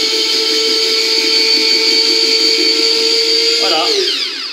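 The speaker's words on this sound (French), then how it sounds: "On va les râper." Courgettes grated in a loud, steady, high-pitched motorized whine close up, which winds down near the end.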